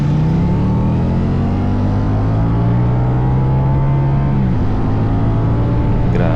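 A Ducati Diavel motorcycle engine holds a loud, steady drone up close, with pitch shifting slightly before dipping and settling near the end, the exhaust tone sustained throughout without talk.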